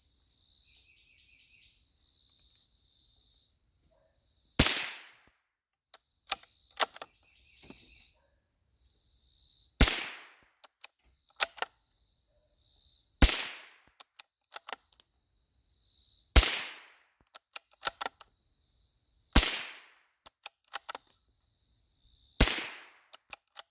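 An RIA M14Y rifle fires six sharp, loud shots spaced a few seconds apart, each followed by a short echo and metallic clatter, with insects chirping quietly between them.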